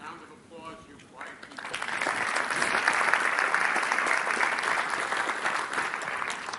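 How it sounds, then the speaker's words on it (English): Audience applause at a technology expo keynote in Florida, starting with a brief voice then swelling into sustained clapping from many hands that stays loud to the end. "Round of applause"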